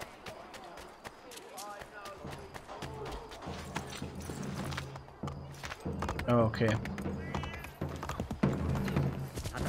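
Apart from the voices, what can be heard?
horse hooves galloping in a video game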